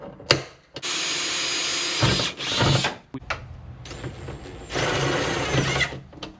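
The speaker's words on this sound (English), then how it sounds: "make a punch mark where we need to drill the bottom hole at" A power drill whirs loudly in two long bursts, grinding steadily through material while drilling a hole for a hood strut on a Jeep Wrangler JK or JL, with short clicks and pauses between runs.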